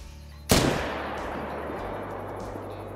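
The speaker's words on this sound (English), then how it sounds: "I took three shots" A single loud rifle shot rings out in the hunting video game Call of the Wild on a savanna lion hunt, its sharp crack followed by a long decaying echo over a low ambient hum.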